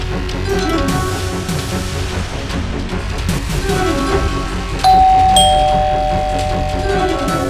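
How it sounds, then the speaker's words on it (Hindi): A doorbell chimes partway through, a clear electronic tone ringing out over a busy background of music and ambience. "डोरबेल बज रही है"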